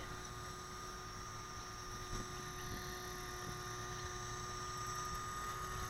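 A small aircraft landing in a video game: a faint, steady engine and propeller drone with a constant whine, heard alone at low volume.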